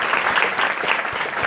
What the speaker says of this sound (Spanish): que se llama Lara, que también os pido por favor un aplauso para ella.